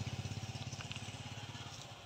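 A motorcycle engine putters with a fast, regular pulsing beat, fairly faint and distant near a highway beside rural farmland, alone without talk.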